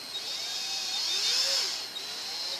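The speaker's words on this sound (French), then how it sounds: "On va pas visser trop vite pour éviter de faire fondre le bois bien sûr." Cordless drill driver running steadily as it drives a screw into wood while a homemade terrarium is built; a continuous whining motor hum, close and moderately loud, with slight pitch shifts and no talk.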